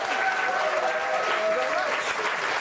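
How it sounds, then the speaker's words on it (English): A studio audience applauds for Jason Singh, a dense, loud, continuous wash of clapping with some crowd voices and sustained tones underneath. "I'd like you to give a big round of applause to Jason Singh"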